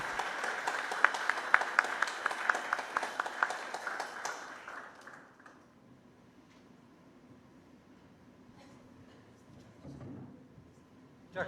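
A conference audience applauds to welcome a speaker, brisk clapping for about five seconds that fades out, followed by quiet room tone and faint shuffling.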